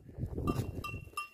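Goats bleat among the ruins of Petra in Jordan: several short, wavering cries come in quick succession, soft and somewhat distant over low outdoor noise.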